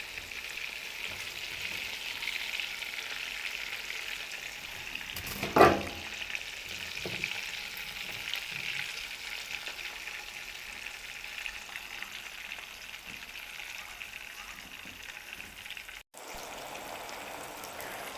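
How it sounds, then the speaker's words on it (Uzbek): Potatoes fry in the fat left from frying meat in a pan, giving a steady soft crackling sizzle that stays fairly faint and continuous throughout with no talking. "Mana shu yog'ga kartoshka qovurib olyapmiz"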